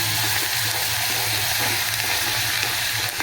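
Curry leaves fry in hot tempering oil with green chillies, a loud, continuous, close-up sizzle with a low steady hum beneath and no talking.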